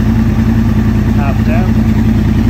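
An engine idles steadily while warming up, a loud, close, even rumble with a constant low hum that holds unchanged throughout, with a faint voice briefly audible in the background.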